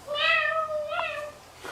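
A young child imitates a cat's meow in a rural northern Shaanxi home: a single drawn-out, high-pitched mew with a brief second rise, close and alone.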